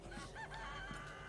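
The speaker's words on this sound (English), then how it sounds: "Oh, you don't have to shoot the chickens." Chickens clucking in the Resident Evil 4 Remake game, a faint, steady run of soft clucks and crowing-like calls over a constant low background bed, with no talk.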